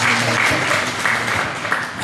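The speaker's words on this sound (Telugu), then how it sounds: "గట్టిగా చప్పట్లు కొట్టి దేవుని మహిమపడతాం" A church congregation claps loudly during a Sunday worship service, a dense and steady burst of many hands that lasts about two seconds.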